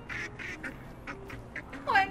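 A cartoonish duck in the game Little Kitty, Big City gives several short quacks in a loose rhythm, fairly close, the last one louder and more drawn out, over a soft bed of game ambience.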